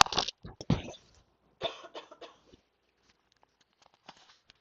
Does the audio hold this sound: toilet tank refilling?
no